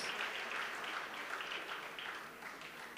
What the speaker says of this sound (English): I wanted to give a big round of applause